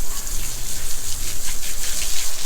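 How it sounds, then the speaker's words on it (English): A garden hose sprays water to rinse a Sea-Doo personal watercraft after a saltwater ride, making a continuous hissing, splashing spray with fluctuating gushes against the hull, close and fairly loud. "Now we can go ahead and just rinse it all off with the hose."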